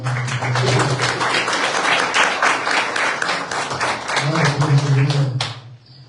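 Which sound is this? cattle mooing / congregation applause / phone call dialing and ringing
congregation applause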